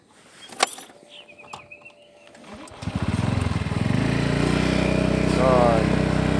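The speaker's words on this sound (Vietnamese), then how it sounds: "Bắt đầu nổ máy." After a few clicks and handling sounds, a motorbike engine fires up and settles into a steady, close, buzzing idle that continues to the end.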